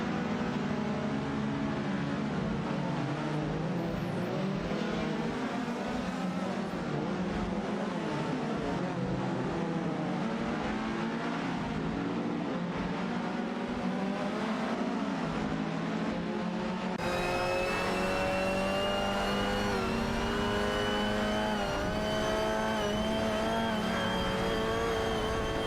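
Several race cars in a racing video game hold a steady, layered engine drone with rising and falling revs as they jostle for position on track, continuous and fairly loud throughout with no talk.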